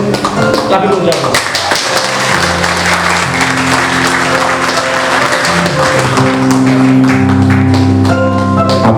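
A church congregation at a thanksgiving service claps in rhythm alongside music with sustained tones and a singing voice, the steady applause loud and continuous throughout.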